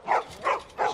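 Dogs in The Last of Us video game bark three times in a steady, evenly spaced rhythm, each bark loud and fairly close, with no talk over them.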